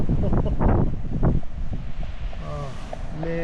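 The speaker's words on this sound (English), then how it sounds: "this wind is unreal." Strong wind buffets the microphone on the Hunter Mountain summit, a steady broadband roar with a voice speaking over it at the start and a brief whistling, tonal creak later.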